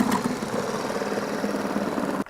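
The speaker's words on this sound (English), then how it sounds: "Let's Sawzall these in two and see what we can find." Sawzall reciprocating saw cutting steadily through closed-cell spray foam and wood, a continuous buzzing rasp held at an even level close by, ending with a brief drop as the blade stops.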